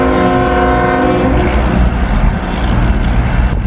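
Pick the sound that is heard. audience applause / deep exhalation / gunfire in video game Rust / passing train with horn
passing train with horn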